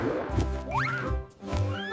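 A horse neighs loudly and nearby: a rising whinny that trills and breaks into several shaky calls, heard alone without any talking.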